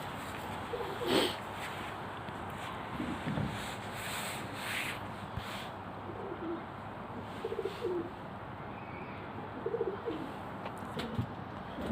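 Pigeons kept on a rooftop loft coo softly in short low bursts scattered through steady background rustle and scraping, with no talk.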